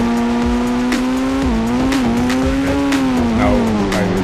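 A car engine drones steadily, pitch wavering as it speeds up and eases off during a ramp jump, loud and continuous, with faint tire noise and no talking.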